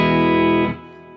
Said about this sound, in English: I get really just kind of a bit of distortion there to begin with.